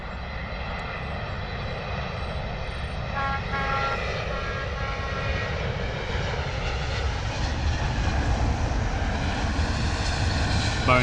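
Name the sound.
British Airways Boeing 777-200 landing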